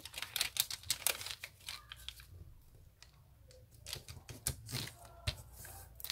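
Paper being folded by hand for an origami dodecahedron: close, quiet crinkling and crisp creasing rustles in irregular bursts, with a brief calmer pause in the middle and no talking.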